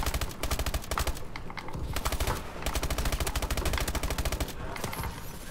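Rapid gunfire from the video game Call of Duty: Advanced Warfare in free-for-all play, dense continuous bursts of automatic fire with layered shots, loud and sustained throughout.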